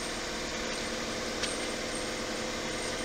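Internal grinding spindle running on a Cincinnati 1248 Filmatic cylindrical grinder, a steady dense mechanical whine and hum throughout, with no speech.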